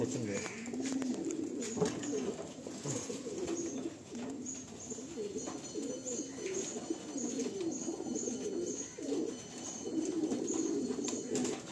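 A pair of pigeons coos in low, soft, repeated calls, close by and steady throughout, while people talk in the background.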